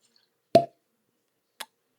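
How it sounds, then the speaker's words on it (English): A cork pulls free from a bourbon bottle with one sharp, close pop, then a quick faint second click follows about a second later, with no talk over it. "All right, cork pop."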